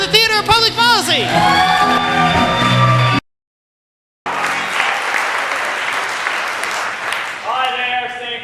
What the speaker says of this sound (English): make a big round of applause for the Theater of Public Policy